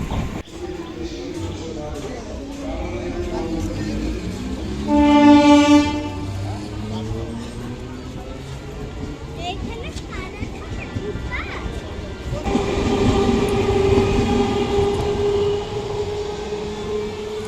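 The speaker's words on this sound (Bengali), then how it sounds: "দেখতে দেখতে চলে এলাম মাঝদিয়া, এখন ট্রেন থেকে নামতে হবে।" A train pulls into Majhdia station, with a horn blast partway through, rumbling carriages and a busy crowd of voices and children nearby.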